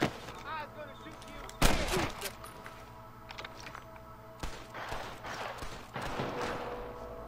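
Gunfire in the Western video game Red Dead Redemption: a few sharp, loud shots at separate moments over game ambience with horse hooves, while a player talks.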